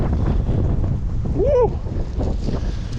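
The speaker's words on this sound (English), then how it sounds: "Oh man, it's really windy out here." Strong wind buffets the microphone outdoors on a snowy day, a loud, steady low roar throughout, with a brief whooping voice cry rising over it midway.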